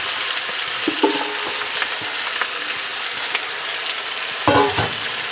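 Potatoes and carrots going into a pan with garlic that has been roasting down, frying with a steady close sizzle, plus a few louder bursts and clatter as they land and are stirred.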